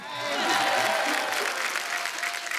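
Loud studio audience applause on a comedy talk show set, a dense steady wash of clapping that swells and holds for a couple of seconds with some crowd noise mixed in.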